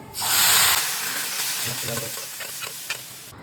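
Dal goes into a hot pan already holding asafoetida and turmeric and sets off a loud burst of sizzling hiss that settles into softer frying with stirring scrapes, no voices.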